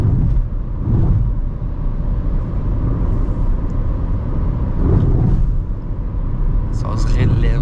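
A Chevrolet Tracker 1.0 Turbo rolls along a highway, its cabin filled with steady road rumble and a few heavier low thumps as the tyres pass over bumps, heard close up from inside.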